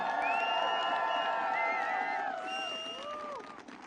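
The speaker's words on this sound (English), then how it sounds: "Big round of applause to all of you here." A crowd at a Ukrainian rally at the Lincoln Memorial, marking one year of the war, cheers with rising whoops and shouts, moderately distant and fading slightly toward the end.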